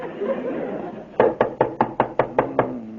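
Eight quick, evenly spaced knocks on a door ring out close and sharp after a murmur of background voices, in an old radio comedy setting.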